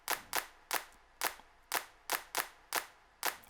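A hand clap sample in an afro house beat made in FL Studio hits about nine times in a steady, evenly spaced rhythm, each crisp and sharp, with nothing else under it.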